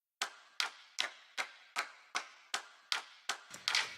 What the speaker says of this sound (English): this clap loop